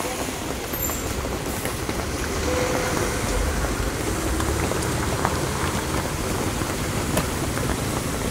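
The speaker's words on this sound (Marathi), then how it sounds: "तरी अजून पाऊस काय थांबायचं नाव घेत नाही" Steady heavy rain falls at Khandala, a dense continuous hiss and patter that fills the scene at an even, fairly loud level, with no break.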